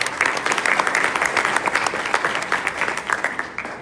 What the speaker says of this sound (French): Encore une fois, merci pour vos applaudissements.